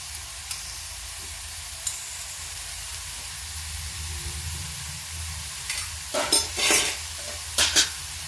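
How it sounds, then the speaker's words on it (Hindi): A spoon stirs and scrapes lauki (bottle gourd) halwa cooking in ghee in a pan, with a soft background sizzle and a few sharp metallic clinks and scrapes clustered toward the end, no voices. "तो अब हम इसको स्पून से छुटा देते हैं।"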